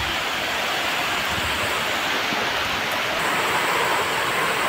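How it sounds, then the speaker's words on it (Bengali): Heavy rain pouring down outdoors on a rainy day, a dense, loud and continuous wash of broadband hiss with no talk, close to the microphone. "বৃষ্টির পরিমাণটা অনেকটাই বেশি।"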